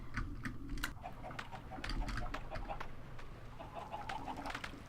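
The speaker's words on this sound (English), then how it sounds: "Here is a chicken farm" Minecraft chickens on a chicken farm in the video game, with repeated short clucks and bird calls over a busy background of clicking, keyboard-like taps and low hum.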